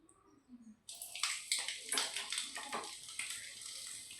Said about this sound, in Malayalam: ആദ്യം നമുക്ക് വെളുത്തുള്ളി മൂപ്പിച്ചെടുക്കാം.